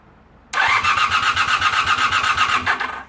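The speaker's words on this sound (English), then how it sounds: "That is turning over much faster than the previous starter motor was." Motorcycle engine cranking over on a replacement starter motor, a fast steady chugging whir that starts abruptly, runs loud and close for about two seconds, then stops without firing.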